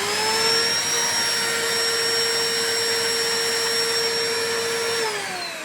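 A Ryobi power tool motor about six months old with worn bearings spins steadily at high speed. Its loud, even whine holds for about five seconds, then pitches down as it starts to wind down.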